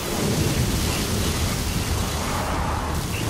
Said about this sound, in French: Faites attention aux éclairs